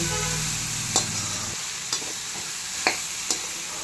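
Vegetables with rock salt are stirred in a cooking pot over a steady sizzle, with a few distinct scraping and clanking strokes of the spoon against the pot.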